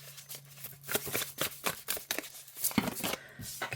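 A tarot card deck is overhand shuffled close up, quick papery riffling bursts in an irregular rhythm over a faint low hum.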